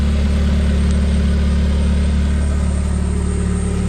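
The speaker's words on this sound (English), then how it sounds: "I've been letting it idle for a little bit" A K-swapped Porsche engine idles steadily at operating temperature, a loud, close, even low rumble with a constant pulsing hum and no change in pitch.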